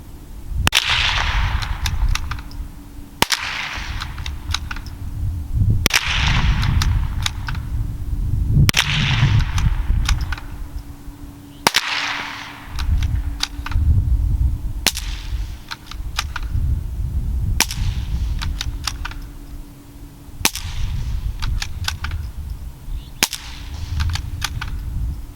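Suppressed .22lr bolt-action rifle firing about nine sharp, evenly spaced shots, each a crisp crack a few seconds apart over a steady low outdoor rumble.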